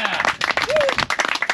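A team gives a round of applause, with lively close clapping from a group and a voice calling out briefly over it.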